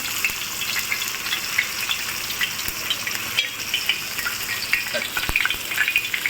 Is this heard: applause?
no